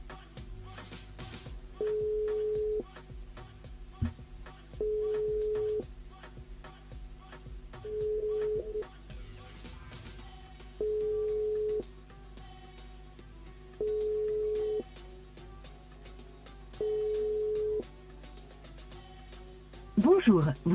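A telephone ringback tone pulses in six evenly spaced beeps, each about a second long, while a radio host talks over and between them as the studio dials a listener.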